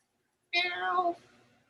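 A single clear meow, sounding like a cat, rises then falls over about half a second before trailing off into quiet.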